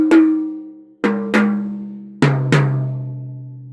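Roto toms struck one at a time, five sharp hits with ringing, falling tones, each note sustaining and fading before the next, close and clear with no talking.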